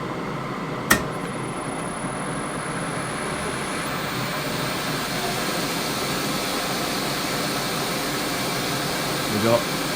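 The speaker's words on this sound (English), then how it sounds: "We've got our motor running, nice and smooth." An electronic leadscrew motor on a lathe runs smoothly at about 600 RPM, a steady broadband hum with a sharp click near the start and a faint knock near the end, heard close and continuous.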